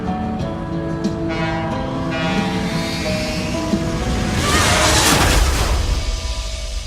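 Train in the video game Life is Strange: Before the Storm, a sustained horn blast with rumbling rail noise that swells into a loud passing roar, then fades slightly.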